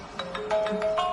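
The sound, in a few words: phone ringtone ringing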